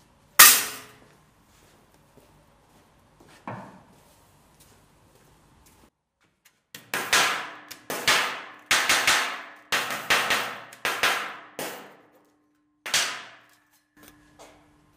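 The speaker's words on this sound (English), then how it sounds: "we're going to tap it down with the hammer" Sharp metallic hammer taps ring out, a single strike, another, then a rapid irregular series of blows on sheet metal, with pauses between.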